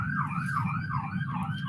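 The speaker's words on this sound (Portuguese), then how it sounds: "tá só passando uma ambulância aqui." An ambulance siren passing outside, wailing in a steady rising and falling cycle, moderately loud against a low background rumble, with no voices.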